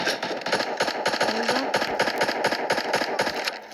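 Rapid automatic gunfire from a weapon in a video game set to burst fire, with loud rhythmic cracks repeating steadily throughout and barely any gaps between shots.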